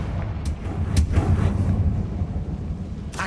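A Confringo blasting spell goes off in the Hogwarts Legacy video game, a rumbling, low-heavy burst with a few sharp cracks scattered through the roar.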